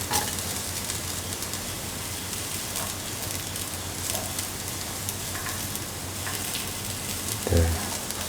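Ginger frying in a pan while cooking chicken fried rice, a steady dense sizzle that holds throughout at moderate level, with a soft low bump near the end.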